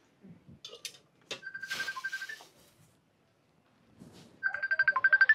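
A mobile phone ringtone chimes in a quick repeating melodic pattern near the end, loud and close, after a stretch of indoor voices and shuffling.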